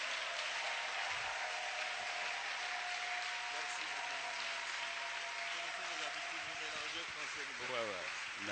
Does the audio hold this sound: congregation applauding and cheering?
yes